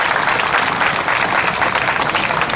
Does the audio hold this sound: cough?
no